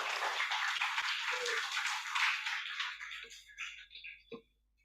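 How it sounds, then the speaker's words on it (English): Conference audience applauding a speaker's welcome, a dense wash of clapping that thins out toward the end into a few scattered final claps. "please welcome and give applause to Gus Ulil Absar Abdallah"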